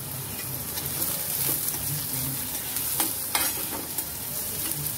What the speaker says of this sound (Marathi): इथे आता मी सगळं एकत्र घातलेलं आहे आणि छान ते आपण परतून घेऊया मस्त